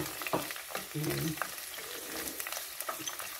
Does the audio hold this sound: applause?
no